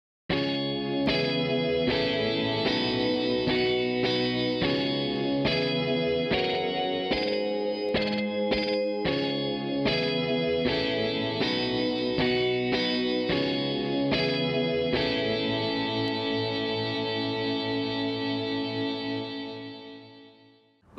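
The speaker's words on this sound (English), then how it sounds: "We've also got power chords in here too." Electric guitar power chords played through a shoegaze effects patch, dense with chorus, echo and slight distortion; a steady run of rhythmic strummed chords that ends in a long, ringing sustained chord fading out, heard alone.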